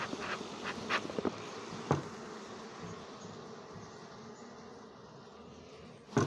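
Honey bees buzzing at an opened beehive box during an inspection: a continuous, close, droning hum of many bees, with a few brief knocks and taps of hive handling.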